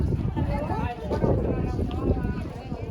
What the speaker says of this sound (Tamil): காற்று அப்படி அடிக்குது.